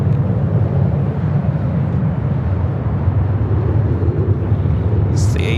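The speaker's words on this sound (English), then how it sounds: "This is the A350 with Delta coming in from Atlanta." A Delta Airbus A350 arriving at LAX from Atlanta, heard as a steady, broad jet roar with wind rumble that holds at an even loudness throughout.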